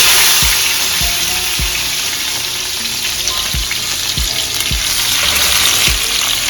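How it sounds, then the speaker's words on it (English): A skillet of olive oil and bacon drippings hisses with a constant loud sizzle, broken by a few low thumps and clanks of utensils against the pan, with no voices. "Put it in the skillet"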